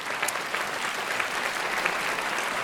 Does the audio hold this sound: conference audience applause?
yes